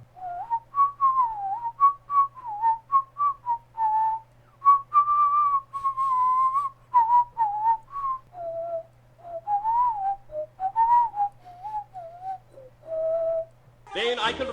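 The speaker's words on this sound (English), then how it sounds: "so I'll just whistle a little." A person whistles a lively melody in short phrases with pitch slides, fairly close and clear, ending with a brief burst of noise.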